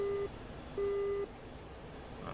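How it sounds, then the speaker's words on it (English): Two steady electronic radar warning receiver beep tones, one short and one longer, sound over a low rumbling background in DCS World's Su-25T, fairly quiet and mechanical. "Some RWR beeps at the moment, so somebody's running radar across us."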